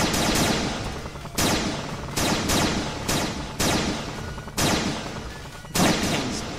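An arm cannon in the Sonic.EXE game fires in loud, harsh bursts, roughly six separate blasts each starting with a sharp crack, heavy and saturated, nearly continuous across the stretch.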